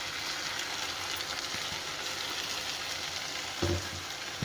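Ground tomato paste hitting a hot pan, giving a steady broadband sizzle that holds throughout, with a brief clunk near the end and no talking.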